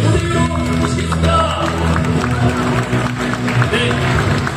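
An audience at a Bandai Gunpla award ceremony at COEX in Seoul claps for the winner, a loud, continuous wash of applause over sustained background music.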